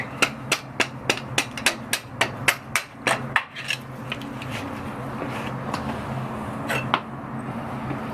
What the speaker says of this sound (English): this is where I like to use my long screwdriver to just pound out this little guy